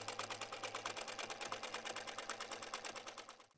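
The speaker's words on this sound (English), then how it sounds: "we're going to sew a 1/4-inch seam down one edge of the gusset" Sewing machine stitching a quarter-inch seam along the edge of a fabric gusset for a tactical pouch, a fast even run of rhythmic needle strokes, fairly quiet, stopping just before the end.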